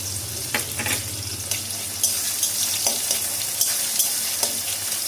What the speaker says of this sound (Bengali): তারপরে দিয়ে দেবো আদা কুচি, তারপরে দেবো পেঁয়াজ কুচি, তারপরে দেবো রসুন কুচি